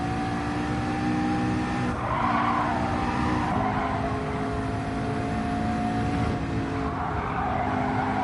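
Gr3 race car lapping Bathurst in Gran Turismo 7, a steady loud engine drone with gear changes and brief lifts off the throttle, tyres scrubbing and squealing through corners, no talking.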